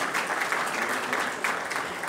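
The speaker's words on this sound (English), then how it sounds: "So let's give him a round of applause and wish him well" Applause from a conference audience at an opening ceremony in a hotel in Georgetown, Guyana, a dense, steady patter of many hands clapping throughout, fairly loud and with no voices over it.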